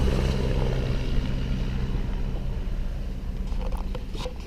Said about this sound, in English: that was the choppers that come in